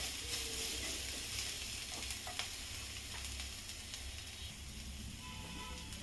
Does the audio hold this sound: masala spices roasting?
yes